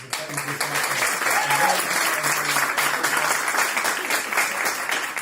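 Sustained crowd applause at a Macomb County campaign community gathering, for Joel Rutherford, many hands clapping steadily at close range with some voices talking underneath.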